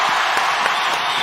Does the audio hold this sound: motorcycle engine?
no